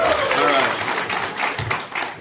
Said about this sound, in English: Can we get a clap for liberty?